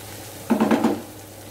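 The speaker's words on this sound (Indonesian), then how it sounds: "Kita goreng bumbunya" Blended red chili spice paste drops into hot oil in a pan and gives one short, loud sizzling burst with a stirring scrape, then settles back to quiet.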